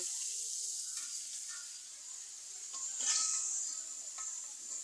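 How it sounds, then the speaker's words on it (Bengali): Potatoes fry in a pan with a constant bright sizzle. Occasional scrapes and stirring strokes rise over the hiss, louder around the middle, and no voices are heard. "আলুগুলো এবার ঢেলে দেব। আলুগুলো সুন্দরভাবে নাড়াচাড়া করব।"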